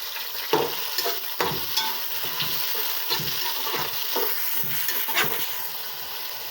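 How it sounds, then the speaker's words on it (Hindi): Onions stirred and frying in oil in a pan while cooking Lucknowi-style keema, with a steady close sizzle broken by repeated scraping strokes of the spoon. "प्याज को हम अच्छी तरह से मिक्स करेंगे।"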